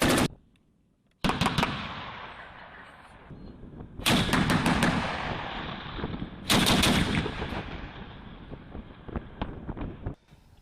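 Loud bursts of gunfire from soldiers firing at enemy targets crack out in several rapid volleys, with wind buffeting the microphone between shots.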